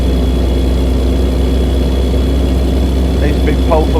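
A big, powerful truck engine in the American Truck Simulator game drones steadily and loud throughout, a continuous low rumble with a faint high whine, while a person talks over it.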